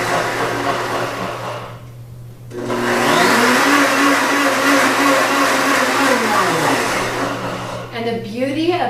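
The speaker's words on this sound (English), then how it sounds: "the beauty of mixing your dressings in the blender is that it doesn't separate" A countertop blender whirs loudly as it mixes a light salad dressing with sour cream, the motor rising to a steady high roar after a brief pause, then winding down at the end.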